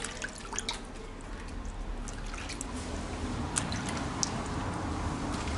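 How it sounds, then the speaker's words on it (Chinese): Small pumpkins are washed in water, giving soft drips, light splashes and trickles over a quiet background, with a few sharper drops standing out. "把这些南瓜洗干净。"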